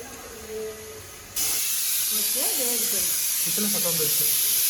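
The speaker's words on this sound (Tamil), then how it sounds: "தண்ணி நல்லா காஞ்சிக்கிச்சு கொதிக்க போது" Steady loud hiss of steam from water boiling in an idli steamer, with a voice speaking briefly over it near the start and again later.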